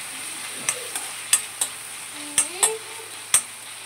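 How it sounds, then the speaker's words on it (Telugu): Onions and green chillies frying in a pan, a soft steady sizzle broken by several sharp clicks and scrapes of a spoon stirring against the metal. "ఆనియన్స్ పచ్చిమిర్చి అయితే వేసేసుకున్నాం. వీటిని మంచిగా తిప్పుకొని కొద్దిగా గోల్డెన్ కలర్ వచ్చేంత వరకు కుక్ చేసుకుంటే చాలు."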